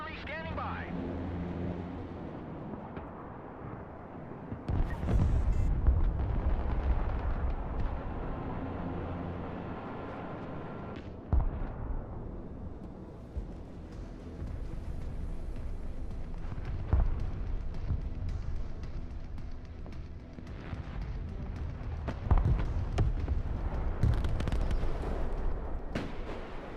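Rocket artillery firing in the Broken Arrow modern warfare strategy game, a series of heavy booming launches and explosions spread across the clip over a rumbling battle bed, with voices talking at times.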